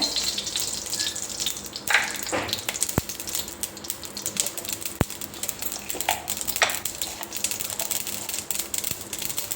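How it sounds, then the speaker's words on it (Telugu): Mustard seeds frying in hot oil in a kadai give a continuous low crackle broken by a few sharp, isolated pops, moderately quiet and without talk. "ఇంకొక కొద్దిగా నూనె పోసుకుంటా సరిపోతుంది కొద్దిగా ఆవాలు వేసుకోవాలి"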